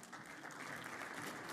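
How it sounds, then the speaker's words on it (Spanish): An audience applauds at a Meetday 2024 tech talks event as the last speaker is welcomed, dense steady clapping from a crowd filling the room throughout, with no talk over it. "en este caso a Lucas Meilán, con un fuerte aplauso."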